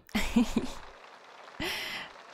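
Rain mixed with hail falls in The Sims 3 as a steady broadband hiss, a brief breathy voice sound near the start and a renewed wash of rain swelling in near the end.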